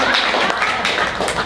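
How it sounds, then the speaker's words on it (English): Audience clapping after a poetry reading at a book launch party in a bookstore, steady dense applause filling the room at moderate loudness for a brief stretch. "You can clap."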